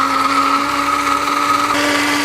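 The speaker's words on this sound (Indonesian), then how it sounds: "Blender." A kitchen blender whirs steadily, grinding tamarind with a little water into a smooth paste for a spicy-sour fruit pickle, a loud continuous motor hum with a slight shift in pitch partway through.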